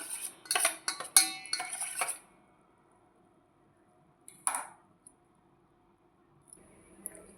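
A spoon stirs a mixture in a pot on a stove, giving a burst of clinking metal scrapes, then a long quiet stretch broken by a few isolated clinks.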